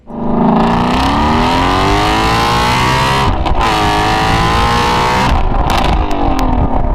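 A Ford Shelby GT350 with resonator delete and X-pipe exhaust roars as the engine revs up through second gear, rising in pitch, then briefly drops at a shift and climbs again.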